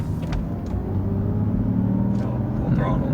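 A Mercedes S600 with a twin-turbo V12, reportedly lacking boost, drives along with a steady low engine rumble and road noise from inside the cabin, while people talk over it.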